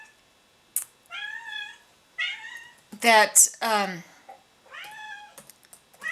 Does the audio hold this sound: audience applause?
no